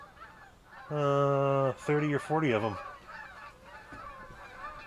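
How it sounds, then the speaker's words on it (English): Canada geese honking overhead in a flock, several loud nasal honks bunched together over about two seconds, then the calls fade while someone talks softly. "We get a lot of geese around here this time of year."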